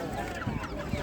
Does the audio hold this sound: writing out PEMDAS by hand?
no